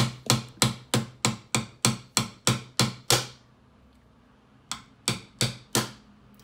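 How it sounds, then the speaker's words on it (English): A hammer taps a hollow plastic water bottle in a steady run of about ten sharp hits, pauses, then four more evenly spaced taps. "take my hammer here and just smack it lightly"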